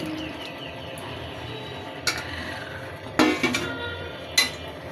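Meat and potatoes being stirred in a cooking pot, with a few sharp metallic clinks and scrapes of a utensil against the pot over a steady low background.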